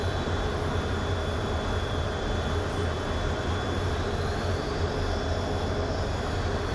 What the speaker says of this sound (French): vous entendez les mouvements qu'il fait sur le moteur, il remet des gaz, il retire des gaz avec la main gauche